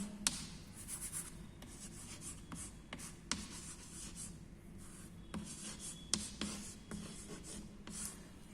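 A pen scratches an answer into a notebook, with steady rubbing strokes and occasional sharp taps, close and soft, no voices.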